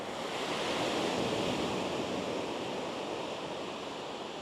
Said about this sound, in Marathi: वारा खूप जोरात चालू आहे त्याच्यामुळे थोड्याशा टाईड्स जे आहे त्या हाय आहे